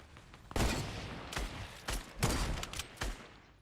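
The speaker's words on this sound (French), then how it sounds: "Une balle. Touché au snipe." Sniper rifle shots in a battle royale game tournament match: several sharp, loud cracks spaced irregularly over a few seconds, standing out from quieter game ambience with no talk.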